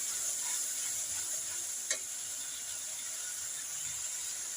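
Ginger and cumin paste with turmeric, chili and coriander powders frying in oil for an egg and banana curry make a faint, steady sizzle, with one brief scrape of stirring midway and no voices.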